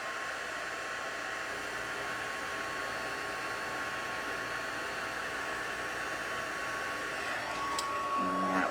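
A heat tool blowing steadily while melting embossing powder on a card, a constant airy whirring hiss with a faint whine, unbroken throughout.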